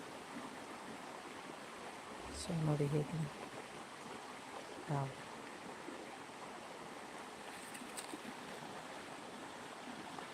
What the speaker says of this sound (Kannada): ನೀರಿನ ಸೌಂಡ್ ಸಹ ಕೇಳ್ತಾ ಇದ್ದೀರ ನೀವು